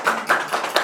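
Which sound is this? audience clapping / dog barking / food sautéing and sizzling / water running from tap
audience clapping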